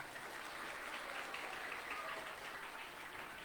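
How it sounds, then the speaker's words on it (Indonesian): Audience applause at an Islamic New Year gathering at a pesantren, a continuous even patter of many hands clapping, fairly distant and soft, with no break. "Tepuk tangan untuk kalian"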